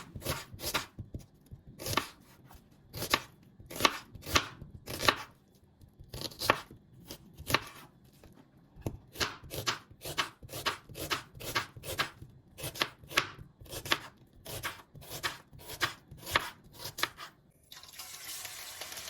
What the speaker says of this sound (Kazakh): Бір дана пияз керек болады. Осылай жіңішкелеп турап шығамыз.